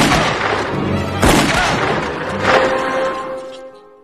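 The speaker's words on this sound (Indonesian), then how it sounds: "Sarah kemudian menembak Henry beberapa kali" Several pistol shots in a film ring out about a second apart, each a sharp booming crack with a reverberant tail, fairly loud with no talking.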